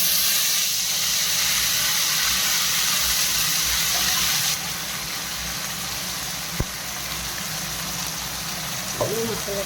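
Masala spices hit hot oil for paneer matar and release a broad, steady sizzling hiss that softens partway through, close to the pan, with a couple of brief utensil knocks near the end.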